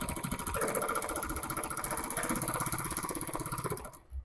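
A Bernina sewing machine fitted with a #43 free motion couching foot stitches a free-motion meander on cloth backed with stabilizer, giving a fast, steady, rhythmic mechanical chatter that runs loud and close before stopping just before the end.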